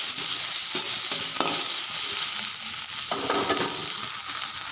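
Ginger chili paste frying in a pan, a steady bright sizzle with repeated scraping strokes as it is stirred, close and continuous with no talking.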